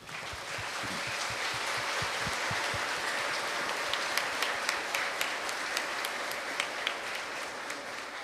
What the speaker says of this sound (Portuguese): Vamos dar uma salva de palmas.